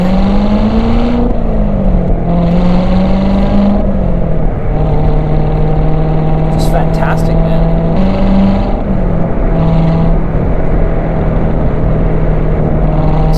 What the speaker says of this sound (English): So I'm on 4th gear now. Going into 5th, 6th.